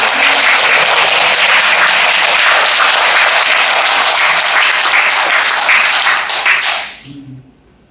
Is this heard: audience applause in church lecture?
yes